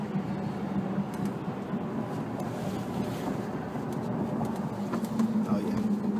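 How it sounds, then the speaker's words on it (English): Road noise fills the cabin of a Tesla driving in New York, a steady low rumble and hum of tires and wind that stays constant with slight swells. "I'm not supposed to hear anything but the road noise."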